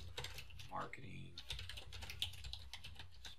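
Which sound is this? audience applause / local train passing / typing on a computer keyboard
typing on a computer keyboard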